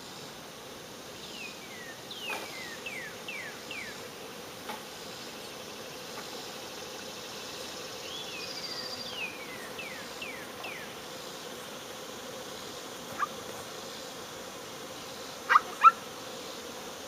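A honey bee swarm in a tree gives a faint, steady buzzing hum outdoors, with a few chirping calls and short knocks over the drone.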